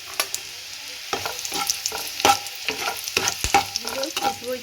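Garlic and ginger fry in a pan for a chilli soya dish, with a steady oil sizzle under repeated scraping stirs of a spatula, close and fairly loud, with no voices.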